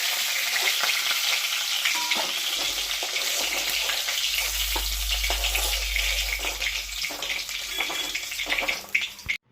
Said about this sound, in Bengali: মাছটা ভাজা হয়ে গেছে, আমি এখন তুলে নিলাম।